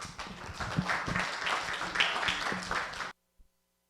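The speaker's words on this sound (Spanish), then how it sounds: "Fuerte el aplauso, por favor." A conference audience applauds to welcome an engineer at an opening session, a dense burst of clapping lasting about three seconds before it cuts off abruptly.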